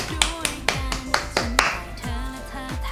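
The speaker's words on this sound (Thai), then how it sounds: "ขอปรบมือให้กับทีมงานด้วยค่ะ" Applause for a production team, heard as a burst of sharp regular claps close by with a low hum underneath, continuing for about three seconds.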